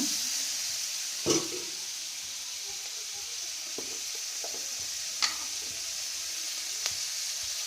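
Onion pieces fry with turmeric and salt in a pan, giving a quiet, steady sizzle with a few sharp clicks of a spoon against the pan.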